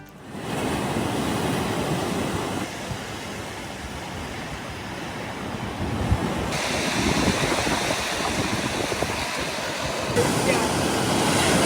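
Sea waves washing continuously on the Tiruchendur shore, a broad steady roar of surf with wind noise, moderately loud with no distinct breaks.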